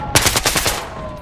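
Automatic gunfire in the Battlefield Hardline video game sounds as a quick burst of about six sharp, close shots, followed by a fading ring.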